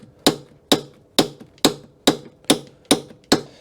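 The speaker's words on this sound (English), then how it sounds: "I hold it like this and then hit it with this hammer here" A hammer strikes a socket extension eight times in a steady, evenly spaced rhythm, each blow a sharp, bright metallic clink that decays quickly, close and alone.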